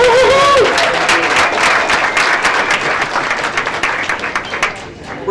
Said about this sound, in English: let's have a round of applause for Sun Country Airlines for their investment